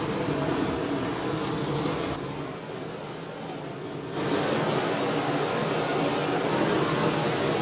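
Torch heating gold laid out for a watch case, a steady loud roaring hiss heard close up throughout, easing slightly for a couple of seconds before resuming at full strength.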